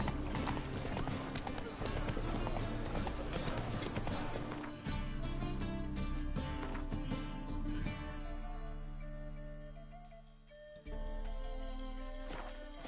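Roach, a horse in the video game Witcher 3, clip-clops at a brisk steady rhythm of hooves, close and loud over a game music bed, slowing briefly near the end before resuming.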